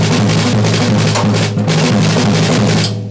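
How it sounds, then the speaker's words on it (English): Snare and floor tom alternate in a fast, even sweeping triplet pattern, played continuously at close range with no talking, before stopping abruptly at the end. "So maybe I'll do snare, floor tom"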